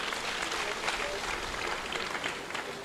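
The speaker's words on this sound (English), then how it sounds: "Can you clap for him?" An audience at a university's fiftieth-anniversary grand finale event claps in a sustained, dense burst of applause filling the hall, with voices mixed into the clapping.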